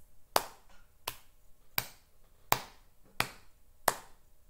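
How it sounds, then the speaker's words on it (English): Six crisp hand claps land alone at an even, unhurried pace during a counting game, each a sharp, close smack with a brief decay in a quiet room. "Clap 6 times."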